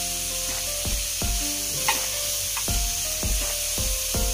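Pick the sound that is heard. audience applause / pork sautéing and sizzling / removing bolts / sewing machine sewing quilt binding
pork sautéing and sizzling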